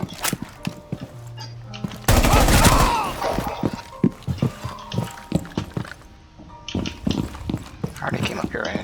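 Gunfire in Rainbow Six Siege: sharp close shots and a loud burst of rapid fire amid clattering in-game action, with people talking throughout.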